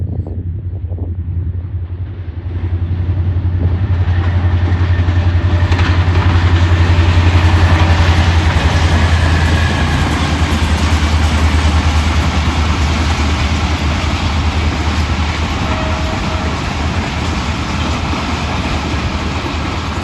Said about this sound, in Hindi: ये थी आज की हमारी 18 डाउन मिल्लत एक्सप्रेस। HGM 30R 8217 ड्यूट पर था